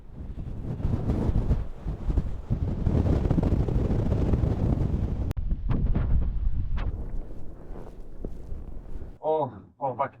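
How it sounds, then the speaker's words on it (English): Strong coastal wind on a clifftop along Scotland's NC500 east coast roars and buffets the microphone in a continuous loud rush, with a short burst of voice at the very end. "My God, it's bloody windy."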